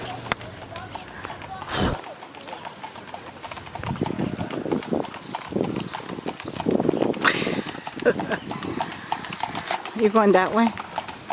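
Horse hooves clip-clop steadily during horseback riding in Puerto Rico, close and rhythmic, with people talking over the hoofbeats.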